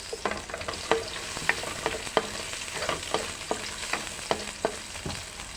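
Onions sautéing in a pan crackle and sizzle under a string of regular spatula scrapes and taps, close and moderately loud, with no talking.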